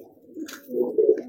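A pigeon, a bird being trained for giring, coos close by in a low, throaty rumble that swells over about a second, with no talk.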